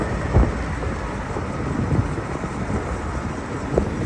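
Steady low rumbling wind noise buffeting a microphone beside a 1974 MG Midget, with a couple of brief thumps, continuous and fairly loud throughout.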